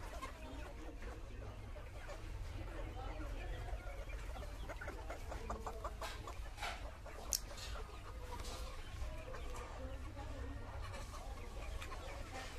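Country chickens, a rooster and hens, cluck in scattered bursts through steady background noise on a farm, with some voice-like sounds in the mix.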